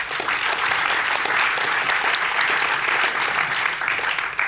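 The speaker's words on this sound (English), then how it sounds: "round of applause, please." A panel-discussion audience applauds steadily and fairly loudly as the panel is introduced, a dense continuous clapping with no break for the whole stretch.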